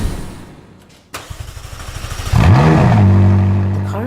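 The engine of a 2019 McLaren 570S fires up loud and close with a sharp crank, settles into a rough idle, then climbs into a rising rev that sweeps upward and holds at a strong, steady roar.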